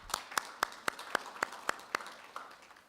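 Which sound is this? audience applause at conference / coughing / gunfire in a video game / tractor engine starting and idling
audience applause at conference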